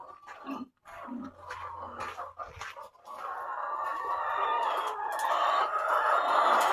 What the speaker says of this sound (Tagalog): Hello mga manok!